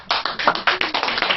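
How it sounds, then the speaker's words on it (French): A small bookshop audience claps in a short burst of close, distinct hand claps at a quick, fairly even rhythm, with no talk over it. "je crois qu'on peut encore applaudir Cartouche."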